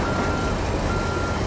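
Backup beeper of a reversing truck in American Truck Simulator, a steady game-engine tone sounding continuously over dense engine rumble throughout, with no talk.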